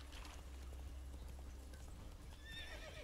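The horse Roach from The Witcher 3 game, hooves clip-clopping in a quick galloping rhythm with a whinny near the end, set against steady low game ambience.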